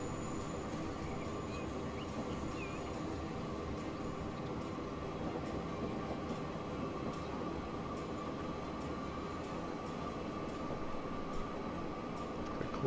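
A strong locomotive hauling a short train rumbles along at an even, steady pace in the railway simulation Transport Fever 2, a low continuous drone with faint mechanical hum and no voices.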